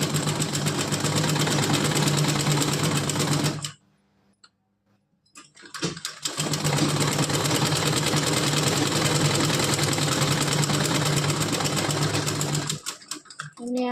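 A sewing machine runs a straight seam on layered cloth for a frock, its steady motor whir and fast needle clatter loud and close, stopping for a couple of seconds midway, then resuming at full speed before cutting off.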